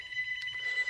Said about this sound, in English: Got a phone ringing in the background.